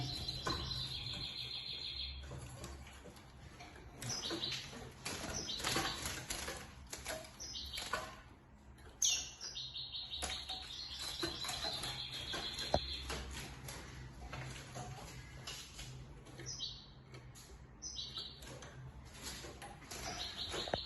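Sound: young goldfinch hybrid birds chirping and flapping

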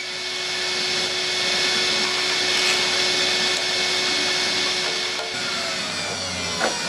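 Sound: vacuum cleaner cleaning a boiler

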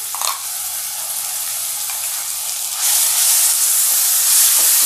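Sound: onion and ginger paste frying in a pan

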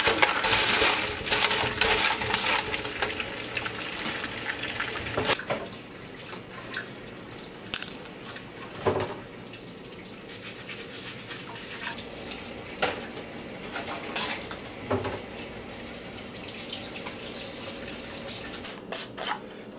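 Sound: washing tumbled rocks under running water

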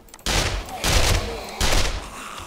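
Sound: landmine explosion in video game 7 Days to Die

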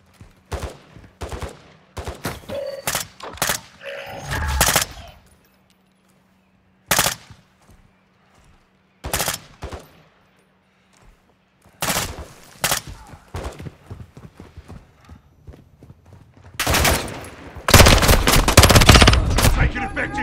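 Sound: machine gun fire in video game Call of Duty: Modern Warfare II

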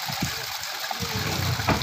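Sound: hot spring water flowing from a lion-mouth spout

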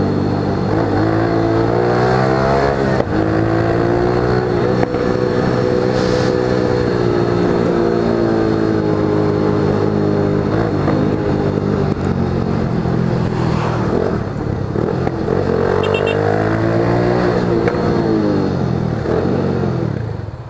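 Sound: Yamaha XTZ125 and FZ6 motorcycles revving during wheelies

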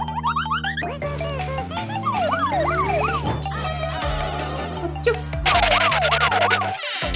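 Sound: ambulance siren

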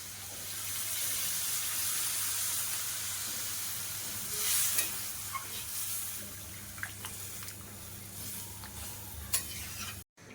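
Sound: water poured into hot pan, sizzling

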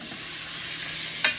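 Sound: sautéing ingredients for Dominican red beans

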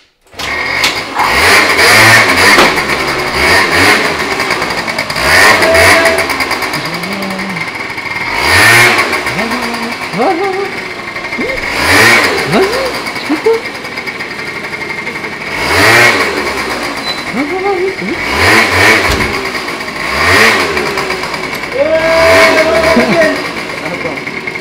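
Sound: scooter engine revving while riding wheelies

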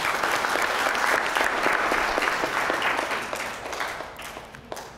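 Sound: applause

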